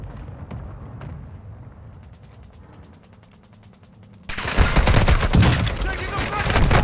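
Gunfire in the Call of Duty Warzone video game: a quiet stretch of faint mechanical clicks and distant shots, then a sudden loud, dense burst of rapid fire that keeps going to the end.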